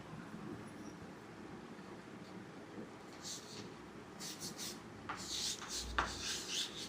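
Marker rubbing across a board while a sentence is written, dry scratchy strokes close by, growing denser and sharper toward the end, with no talk.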